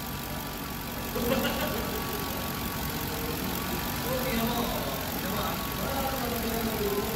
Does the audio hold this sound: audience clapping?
no